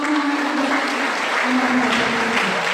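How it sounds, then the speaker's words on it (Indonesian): Church congregation applauding a singer after a youth service song, steady close clapping throughout with a low hum underneath. "Puji Tuhan, berikan lagi tepuk tangan untuk"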